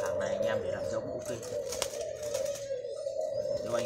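A spotted dove of the Japanese-French breed line coos in a steady, repeated low hooting phrase, close and moderately loud over a faint background murmur.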